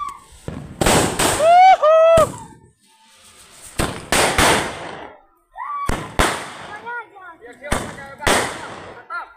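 Diwali firecrackers and hand-launched rockets going off near at hand, several loud sharp bursts in clusters separated by pauses, with whistling rising streaks between them and people shouting and talking throughout.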